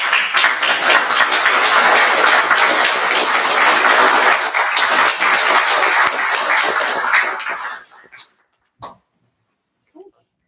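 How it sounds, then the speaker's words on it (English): A round of applause from the audience at an Indigenous relations event, dense and loud for about eight seconds before cutting off, followed by a couple of brief faint sounds in near silence. "So please join me in a round of applause."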